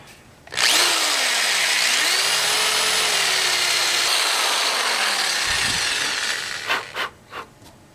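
A power drill bores steadily into the old wooden handle of a rusty hammer for about six seconds, loud and close, its pitch sagging and recovering under load before stopping with a few short knocks.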